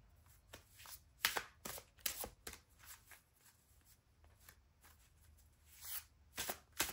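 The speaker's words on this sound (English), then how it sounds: "Let me draw some cards from this oracle deck." An oracle card deck is shuffled close by in a quiet room, giving a series of crisp papery riffles and slaps in uneven bursts, with short pauses between them.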